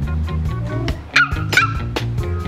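A puppy lets out a few high yips and whimpering barks, close by, over a low background hum.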